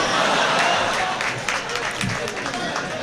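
Audience applause at a mushaira poetry gathering in Wardha, India, a dense, loud wash of clapping from a crowd that carries through the whole moment.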